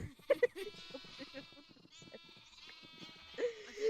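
Sheep bleating in a Minecraft-style build guessing game, several short bleats near the start and again toward the end, mixed with game sounds and soft background music.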